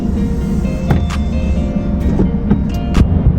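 Power window on a 2002 Mercedes-Benz E200 W210 lowers with a steady, loud electric motor whine inside the car, punctuated by a few light clicks and knocks, with no talk.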